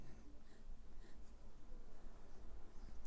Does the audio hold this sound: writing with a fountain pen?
yes